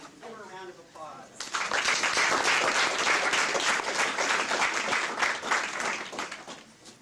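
Applause for a student speaker at an Earth Day speech showcase swells in after a brief spoken line, holds as a full, steady round, then tapers off.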